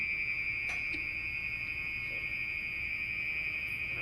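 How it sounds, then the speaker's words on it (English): A continuous high-pitched alarm tone rings without a break, steady and fairly faint over a low background hum. "It's an alarm."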